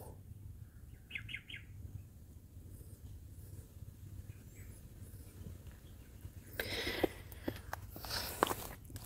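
A few faint, distant caws from crows over a quiet outdoor hum, followed later by closer rustling and scuffing.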